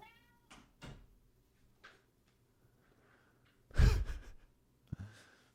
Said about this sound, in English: This cat wants to get in again.